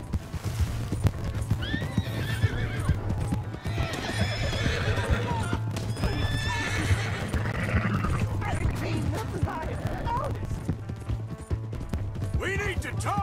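Hooves clip-clop at a steady run with a horse whinnying in Red Dead Redemption 2, layered over continuous game music and sound effects.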